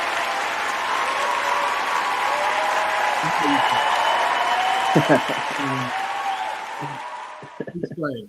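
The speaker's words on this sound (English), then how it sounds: "Hold on, let me give you a round of applause." A crowd applauds loudly and steadily for several seconds, a dense wash of clapping, with a voice speaking briefly over it before it fades.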